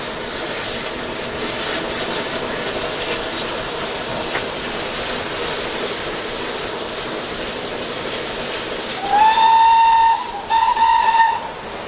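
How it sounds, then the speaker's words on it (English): Steam locomotive 6024 King Edward I under way, its safety valves sizzling in a loud, steady hiss that nearly buries the exhaust beat, with two sharp whistle blasts near the end. "the sizzle of the safety valves almost drowns out the bark of the exhaust as the engine heads for the short tunnel"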